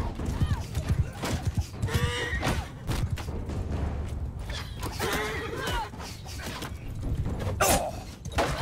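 Mounted horse archers gallop across a battlefield in the Mount & Blade 2: Bannerlord video game, with close, busy hoofbeats, occasional neighs and thuds, while someone talks over the action.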